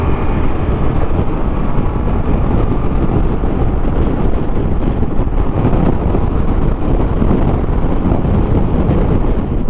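Loud, dense roar of a Ducati Multistrada V4S motorcycle engine accelerating in sixth gear, with heavy wind buffeting, sustained at high volume without pause.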